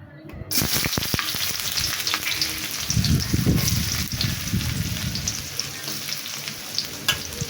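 Chopped onions hitting hot oil in a pan, a sudden loud sizzle that surges then settles into steady frying, with clattering stirs and scraping partway through, no speech.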